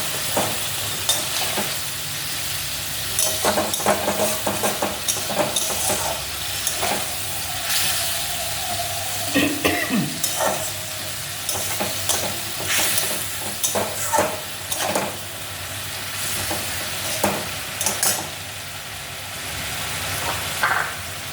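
Vegetables sauté in a pan after a splash of water is added, giving a loud, steady sizzle and hiss with repeated scraping and stirring knocks of a spoon against the pan.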